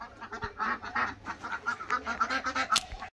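Ducks on a small farm quack in a rapid, overlapping chatter, close and fairly loud, with no break in the calls.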